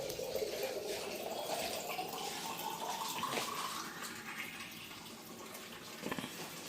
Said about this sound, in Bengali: এই গাছ দুটোকে না আজকে একটু বাইরে বের করে ভালো করে জল দিচ্ছি, পাতাগুলোও ধুয়ে যাচ্ছে